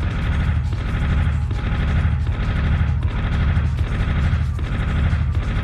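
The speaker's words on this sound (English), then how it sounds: "Let's try and shoot some of those barrels" Rapid bursts of gunfire aimed at barrels in the game Army Men: Green Rogue, loud and close, firing in regular repeating volleys with a rhythmic rattling crack and no talk.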